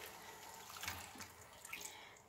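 Tap water runs steadily into a kitchen sink as cooked grains from a strained heart broth are rinsed off, a continuous close splashing with a few brighter drips, no talk.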